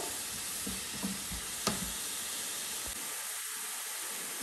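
Sliced peppers sauté in a pan with a teaspoon of salt, giving a steady, close sizzling hiss with a few light clicks of stirring and no talking.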